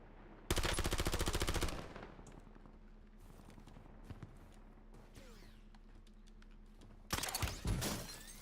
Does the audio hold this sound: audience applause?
no